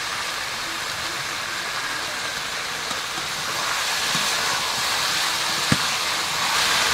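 Meat being fried down in a pan for a curry, a steady broadband sizzle and hiss holding through the whole stretch, growing slightly louder midway, with a single sharp tick near the end.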